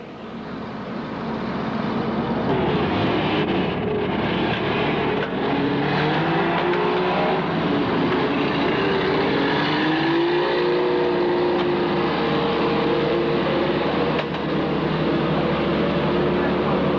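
Race cars lap the Lismore Showgrounds speedway in the 1984 Grand Nationals, USA versus Australia. Engines drone and rise in pitch continuously, loud and sustained, while a commentator talks over the noise.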